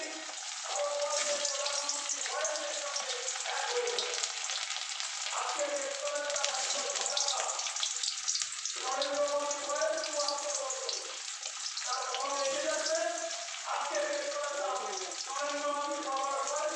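Potatoes frying in hot oil for a poppy-seed chicken dish, a steady, close, bright sizzle running unbroken throughout while a person talks over it at intervals.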